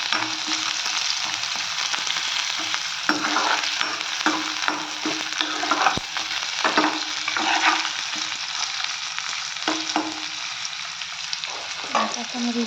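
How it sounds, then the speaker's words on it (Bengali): A spoon stirs onions frying in a pan, giving a steady close sizzle overlaid with repeated scraping and tapping strokes, with no talking. "চামচটা নাড়াচাড়া করে দিতেছি।"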